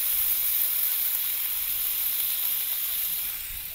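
Food frying in a pan gives a steady, loud sizzling hiss that holds evenly for several seconds and eases off slightly at the end, with no voices over it.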